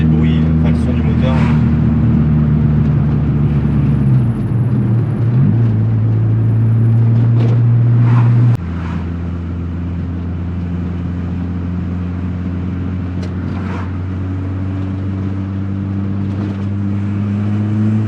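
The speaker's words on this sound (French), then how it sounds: "Je sais pas si vous entendez le bruit, enfin le son du moteur." A Volkswagen Golf 2 GTI 8S engine runs steadily as heard from inside the car on bumpy roads in northern France, a low droning hum that shifts pitch midway and settles into a constant rumble.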